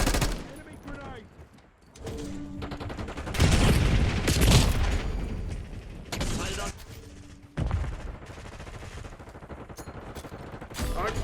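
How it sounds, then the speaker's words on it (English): Call of Duty: Black Ops 6 multiplayer firefight with bursts of automatic gunfire and booming grenade explosions, loud and close, with brief announcer-style voice callouts between. "Enemy grenade!"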